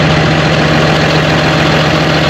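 A hired New Holland tractor idles close by, its engine giving a loud, steady, low diesel drone with a constant hum and no break.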